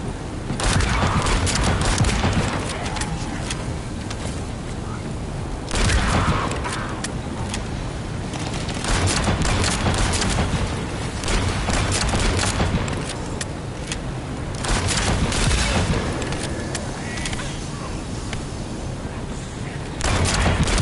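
Sustained loud gunfire and explosive bursts from The First Descendant video game, coming in repeated waves that swell and fade every few seconds.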